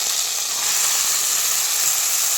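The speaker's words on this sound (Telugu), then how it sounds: "టమాటా, ఉల్లిగడ్డ వీటిని మంచిగా వేయించుకుందాము." Chopped tomatoes and onions frying in a pan for restaurant-style palak paneer, a loud, continuous, bright sizzle with no talk.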